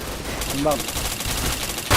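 Gunfire from the video game Point Blank rattles in fast repeated bursts, loud and dense throughout, while a voice briefly talks over it.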